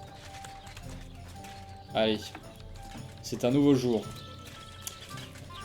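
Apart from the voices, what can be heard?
horse clip-clopping in the video game Kingdom Come: Deliverance II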